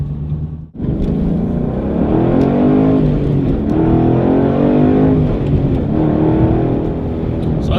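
A 2012–2013 Ford Boss 302 V8 running on its red track key starts with a sharp catch and then revs hard and steadily, its loud engine note rising and falling several times, up close and unbroken.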